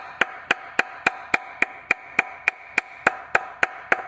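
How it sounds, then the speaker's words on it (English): A hammer taps gasket paper laid over a part of a Case G188D engine to cut it, fourteen sharp, evenly spaced metallic clicks about every quarter second, close and clear over a faint background. "if you just work the hammer a little bit"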